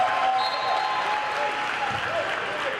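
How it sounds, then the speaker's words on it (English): A crowd at a college basketball game between Lourdes and Siena Heights roars with steady cheering and applause, a broad wash of noise with faint squeaks and calls mixed in. "The cheers of the crowd heard a little louder Saturday afternoon"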